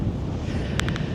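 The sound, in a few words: brisk wind on Rottnest Island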